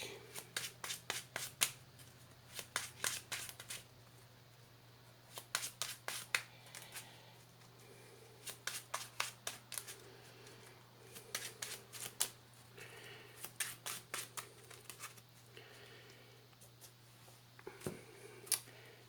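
Bursts of card shuffling, a Marvel Champions encounter deck riffled repeatedly in quick rattling runs separated by short pauses, close up over a low steady hum.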